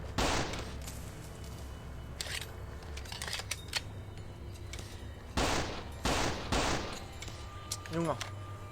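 Gunfire in the video game Into the Dark: Ultimate Trash Edition comes as loud, sharp bursts, one near the start and a cluster of several shots later, over low background game sound.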